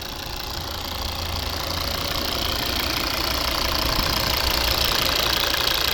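A 2015 Volvo V70 2.4 D5 five-cylinder diesel engine idles steadily with a rough, knocking rumble and a constant hiss, growing slightly louder, with no voices.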